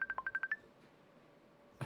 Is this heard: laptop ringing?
yes